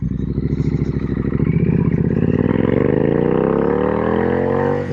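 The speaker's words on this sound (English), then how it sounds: "But I would say that this is quite the performing motorcycle" A Triumph Street Twin 900 motorcycle accelerating hard on a gravel road, its close, loud engine note climbing steadily in pitch as it pulls through the gear before easing off at the end.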